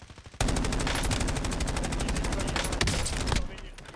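Sustained video-game gunfire, a rapid automatic burst of many evenly spaced shots lasting about three seconds, fairly loud with no speech over it.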